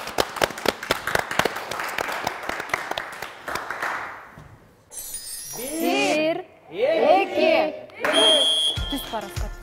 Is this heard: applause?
yes